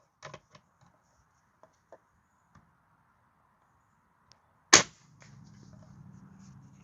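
Crosman 760 air rifle trigger pull: a few faint small clicks, then one sharp, close snap, followed by a low steady hum.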